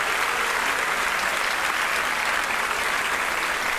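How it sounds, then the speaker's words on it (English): A school spring concert audience applauds band members at an awards ceremony, dense steady clapping that fills the room evenly throughout, with no speech over it. "Let's give these guys a big round of applause."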